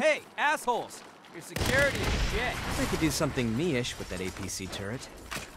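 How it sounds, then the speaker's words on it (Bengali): Gunfire from the Saints Row video game, a burst of sharp shots rising out of a loud, dense mix of game noise, with excited voices talking over it throughout. "আমি ফায়ার করলাম এনি মিরে ব্লাস্ট হয়ে গেল"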